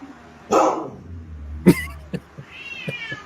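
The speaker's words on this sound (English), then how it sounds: "So, Tammy, here we have cats versus dogs" A cat and a dog square off in a played video: a loud cat yowl, then a sharp bark, followed by a few short yelps and a rising meow, all close and overlapping without talk.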